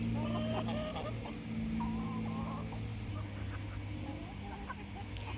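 Several chickens cluck and murmur softly nearby, with a steady low hum in the background throughout.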